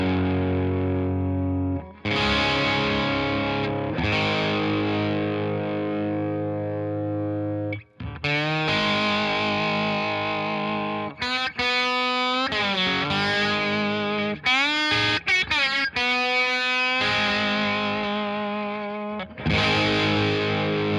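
Slide guitar played with a blues bottle slide through a distortion pedal, with long sustained gliding notes and phrases broken by short pauses, loud and close with no talking.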